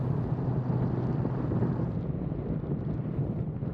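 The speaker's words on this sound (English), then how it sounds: "It's just the wind is a little bit of a hassle." Steady, loud wind roar buffeting the microphone while riding a motorcycle fitted with a car tire on Interstate 20, a continuous low rumble with no pauses or talk.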